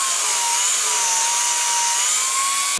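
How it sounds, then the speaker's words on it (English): A power tool shaves the sides of a wooden bedroom stand, giving a steady, loud whirring drone with a constant high whine that runs unbroken for the whole clip. "Now I'm going to shave off the sides just to clean up the edges."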